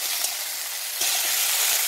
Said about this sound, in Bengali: এবারে আমি পুঁই মেটুলিগুলোকে ভেজে নেব।